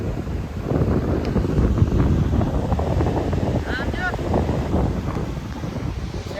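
Stormy wind buffets the microphone in a steady roar while heavy sea waves churn on Madhavpur beach during a gale, with brief voices and a faint call heard beneath the noise.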